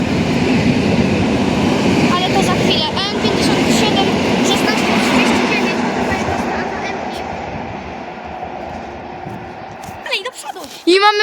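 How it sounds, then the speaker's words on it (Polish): A PKP Intercity passenger train runs past the platform at Warszawa Włochy station, a loud rolling rumble that fades toward the end, with squealing wheel or brake tones near the close. "Szykuje się skład Intercity z Ursusa Północnego."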